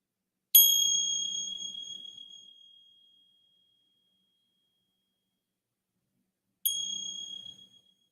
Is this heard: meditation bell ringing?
yes